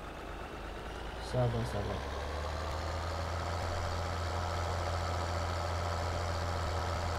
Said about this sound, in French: Petit tracteur pour aller vider